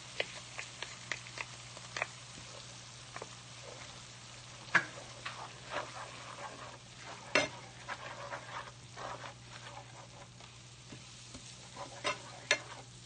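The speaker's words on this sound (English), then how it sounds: "I'm going to add in the flour and stir to combine." A spoon stirs flour into a vegan pot pie filling in a pot, giving soft, irregular scraping and light clicking strokes over a low steady hum, with a few sharper taps and no talking.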